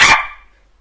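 A person's voice imitating a chimpanzee, one loud, short, harsh bark-like shriek that cuts off quickly and fades out.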